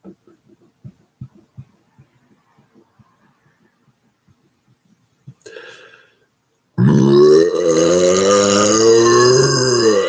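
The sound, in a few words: burp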